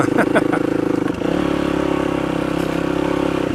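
A motorcycle engine drones loud and steady on a summit trail, with clattering and a brief dip in revs before it settles into an even run; someone talks over it.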